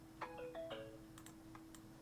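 Phone sounds a short melodic reminder alarm, two quick chime phrases followed by faint ticks, quiet against a steady electronic hum with no talking.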